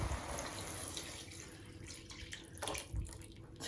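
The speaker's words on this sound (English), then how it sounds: "Pour in the stock." Soup stock poured into a cooking pot after a high-heat fry, a quiet, continuous watery splashing that swells and settles over a few seconds.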